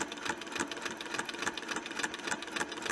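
Sewing machine stitching curvy lines on a Westalee Spin-e-fex tutorial project, a steady close mechanical whir with a quick regular needle rhythm throughout, no talking.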